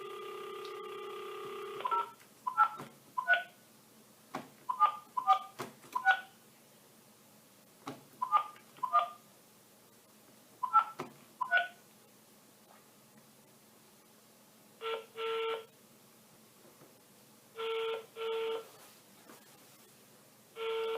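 A phone dialed for a telesales call: a long dial tone, then a quick run of keypad touch-tone beeps in small bursts, followed by several evenly spaced ringback tones, clear and close with no talking.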